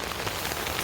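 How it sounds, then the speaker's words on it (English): Rain falls steadily on the forest and surfaces along a Smoky Mountains trail, a dense, even patter close around, loud and alone with no voices. "as you can hear, it's raining, and I think the heavy rain is about to start"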